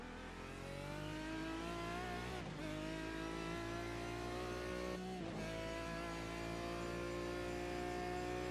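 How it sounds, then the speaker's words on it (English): A Proto-GT race car engine revs hard and climbs up through the gears during a Canadian Tire Motorsports race, two quick dips marking upshifts, loud and continuous with a steady droning tone. "Up through the gears, into 5th. Sixth."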